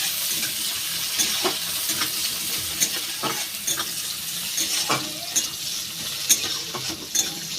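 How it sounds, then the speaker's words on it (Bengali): Chopped onions and whole cumin seeds fry in hot oil with a steady, close sizzle, broken by the repeated scrape and clack of a spatula stirring the pan; no voices. "এবারে দিয়ে দেব পেঁয়াজ কুচো। পেঁয়াজটা একটু বেশ লাল লাল করে ভেজে নেব।"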